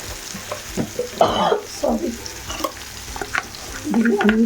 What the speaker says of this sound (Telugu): ఇలా పోపునంతా చక్కగా కలుపుకోవాలి